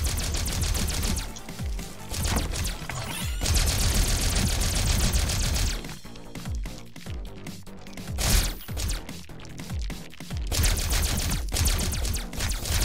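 Rapid arcade blaster fire in Centipede Recharged, dense rattling streams of shots with bursts of crackling impacts and explosions, loud and continuous with brief lulls.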